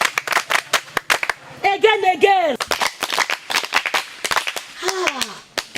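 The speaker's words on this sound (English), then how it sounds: "Give yourself a round of applause." A small group claps in sharp, loud, rhythmic bursts, a patterned round of applause with sounding voices mixed between the claps.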